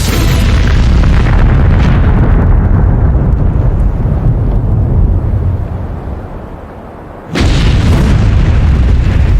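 Massive ammonium nitrate detonations at a port, two explosions seconds apart: a loud, sustained roaring boom fills the whole clip, dips briefly, then surges back with a second powerful blast.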